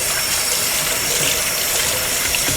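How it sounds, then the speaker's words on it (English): Water from a kitchen tap runs steadily over hands being rinsed, a loud and constant close rush with no pauses or voices. "I'm going to rinse my hands off"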